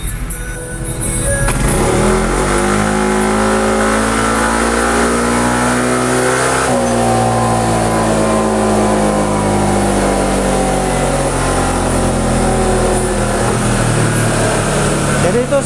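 Yamaha NMAX scooter engine revving hard on a BRT dyno, a loud sustained whine with rising pitch that holds steady near the rev limit, continuous and close throughout.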